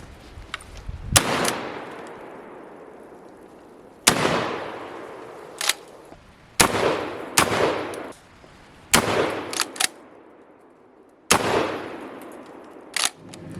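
Dickinson XXPA shotgun fired in pump mode: six loud, sharp shots spaced a couple of seconds apart, each with a long decaying echo, with a clack of the pump action between shots.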